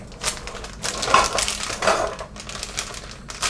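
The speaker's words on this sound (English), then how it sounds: "So I need to open up the pancake mix now." A package of pancake mix is torn open, producing close crinkling and rustling bursts of paper or plastic in uneven waves, moderately loud with no talking.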